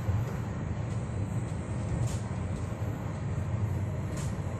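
Steady low rumble and rolling clatter of a train heard from inside a carriage on a long Pune to Kolkata run, continuous and even with faint periodic rattles above.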